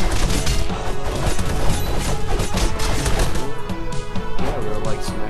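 Dense, loud co-op brawling in Castle Crashers, with continuous smashing and whacking hits layered over game music, steady and busy throughout without pause.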